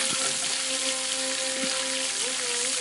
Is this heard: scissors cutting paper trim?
no